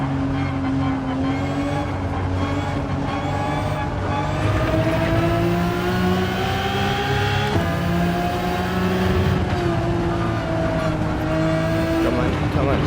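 A Nissan R34 GT-R Z-tune from 2005 in Gran Turismo 7 holds a loud, continuous engine drone that rises steadily in pitch under acceleration in fifth gear, with a brief dip midway, while someone talks over it.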